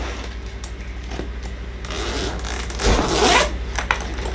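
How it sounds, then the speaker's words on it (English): The zipper on a Milwaukee 15-inch structured tool bag is pulled in a long, scratchy run, growing louder near the middle before stopping, with no speech. "And the zipper goes all the way around."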